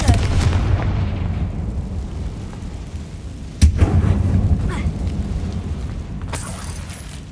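Casting the Confringo fire spell in Hogwarts Legacy sets off a sharp blast midway through, a sudden loud boom that rumbles and fades inside a cavernous mine, over a low ambient drone.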